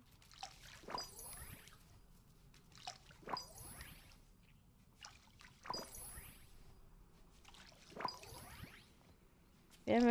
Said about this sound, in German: Wer möchte nicht den ganzen Tag gießen?